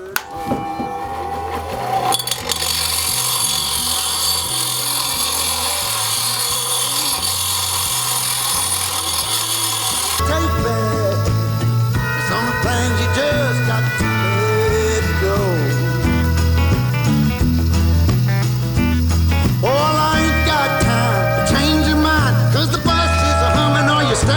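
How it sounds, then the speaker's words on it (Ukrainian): A ProCraft 250 W bench grinder runs continuously, its wheel grinding and chamfering the end of a 50 mm steel pipe, a loud sustained whine and rasp with shifting pitch as the pipe is pressed against the wheel, close up. "бачите, як можна зачищати 50 трубу, тобто можна також вибрати ще більшу фаску"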